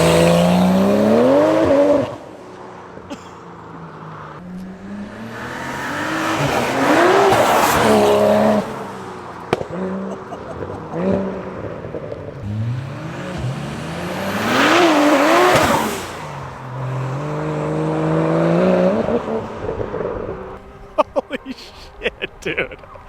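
A BMW N54 engine with a CES Motorsport bottom-mount turbo kit revs hard through repeated rising pulls with shifts between them, loud and close, with people's voices briefly audible in the gaps.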